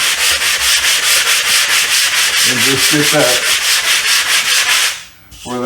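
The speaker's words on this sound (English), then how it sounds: "So I'm just going to get the sanding." Rhythmic scraping strokes of a sanding block's coarse side rubbing a drywall repair, steady back-and-forth, close and loud; a few words are spoken briefly partway through.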